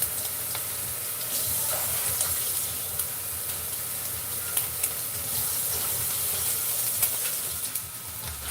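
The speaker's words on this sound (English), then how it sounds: "that meat popping" Meat fries in a pan on the stove with a steady sizzling hiss and scattered small pops and spits, close and continuous, with no talking.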